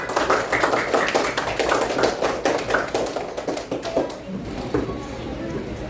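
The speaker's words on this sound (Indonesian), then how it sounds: "tepuk tangan dulu untuk kita semua" A classroom of students claps together during a lesson, a busy patter of many hands that thins out after a few seconds, with voices chattering over it.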